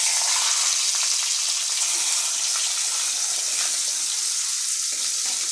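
Catla fish head dropped into hot oil for mung dal, giving a loud, steady, close sizzle with bright hiss throughout and a few crackles near the end.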